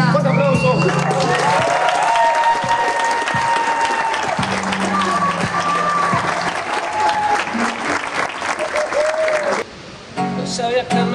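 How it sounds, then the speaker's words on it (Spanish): Loud, sustained audience applause with cheering at a live music show, thick crowd clapping and shouting that holds for several seconds before briefly dipping and surging again near the end. "¡Fuerte aplauso!"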